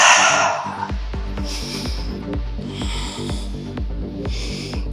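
A forceful breath blows out at the start, a short, breathy rush during a stretch in a weighted strength and cardio workout, followed by a steady rhythmic beat of background music.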